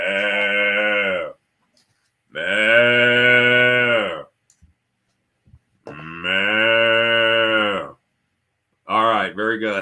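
A cow moo sound effect plays three long, loud, sustained calls with pauses between them, followed by a short clipped start of a fourth.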